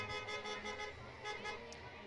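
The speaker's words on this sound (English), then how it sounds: "what is all this horn honking about?" Vehicle horns tooting at a Christmas parade in Concord, a run of faint, distant honks in quick succession over a low street background.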